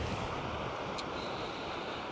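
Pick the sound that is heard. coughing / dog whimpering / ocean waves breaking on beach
ocean waves breaking on beach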